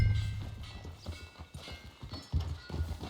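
Horse hooves clip-clop in an irregular walking rhythm in Red Dead Redemption 2, fairly quiet and close, with faint ambient background and no talk.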